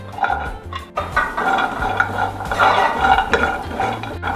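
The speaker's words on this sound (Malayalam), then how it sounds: "നമുക്ക് വാൾനട്ട് ഒന്ന് ഡ്രൈ റോസ്റ്റ് ചെയ്ത് എടുക്കാം" Walnuts dry-roast in a pan, rattling and scraping steadily as they are stirred, close and fairly loud.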